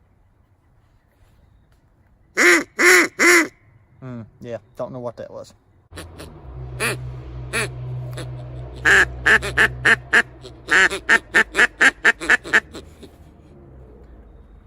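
A Flextone duck call blown in a run of loud, nasal quacks, first a few spaced calls, then a fast descending series, with someone talking between bursts.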